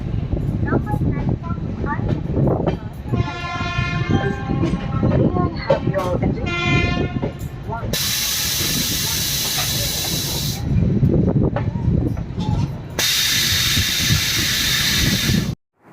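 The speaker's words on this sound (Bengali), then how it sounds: "ট্রেন ঢুকেছে আমাদের নিউ জলপাইগুড়ি স্টেশন" A train pulls into New Jalpaiguri station with a low rolling rumble. Two long, loud bursts of hissing air come through the noise while people talk nearby.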